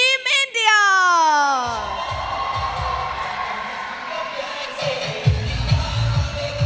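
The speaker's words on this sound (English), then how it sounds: "Huge applause, as you would expect," A home crowd in Patna cheers Team India at a sepak takraw world cup match, a loud sustained roar of shouts and whoops that swells and carries on beneath an announcer's voice.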